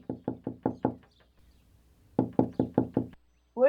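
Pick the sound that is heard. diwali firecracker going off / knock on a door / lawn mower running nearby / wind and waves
knock on a door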